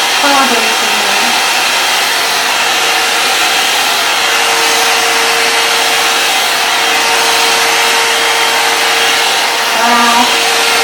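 A 3-in-1 airstyler blows hot air steadily over a synthetic wig, a loud, continuous whooshing hum with a faint whine that holds unbroken for the whole stretch, with no voices.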